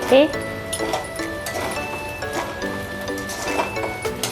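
A spoon scrapes and clinks as sabudana khichdi is stirred in a pan, with repeated metallic taps and scraping under steady talk.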